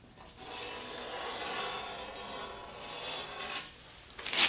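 An oxy-fuel cutting torch slices freehand through steel strap on a 2016 Ram flatbed rebuild, a steady loud hiss and roar of the flame running almost without pause, dipping briefly near the end before a sharper burst.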